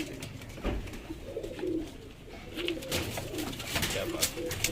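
Large high-flyer pigeons coo close by in soft, low repeated murmurs, with light rustling and faint background noise between calls.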